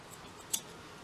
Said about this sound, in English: this is where you want your scissors, and you're going to cut a decent amount of yarn